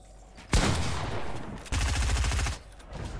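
Rapid bursts of gunfire from a Fortnite-style video game match during a 1v1 tournament, two loud sustained volleys with a short gap between them, heard on their own.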